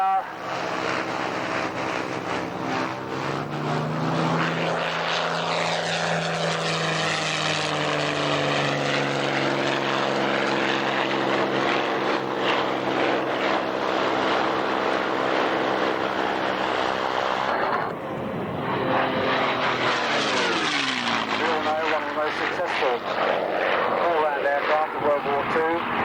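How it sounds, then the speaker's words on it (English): A Messerschmitt 109G with its Daimler Benz engine and a Spitfire roar past at a 1994 Duxford autumn airshow, loud propeller engine drone with sweeping pitch shifts as the planes pass, continuous throughout under a commentator's voice. "the mighty Daimler Benz, the Messerschmitt 109G, flown today by David Southwood. That Spitfire"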